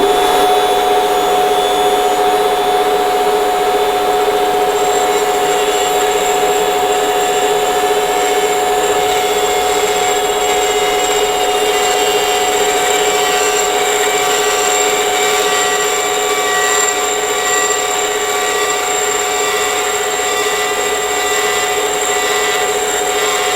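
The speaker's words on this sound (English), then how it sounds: "Now I'm just going to use this little Dremel grinder thing." A small Dremel rotary grinder works on the faces of tractor engine valves, a continuous high-pitched whine that holds close and loud throughout with little variation.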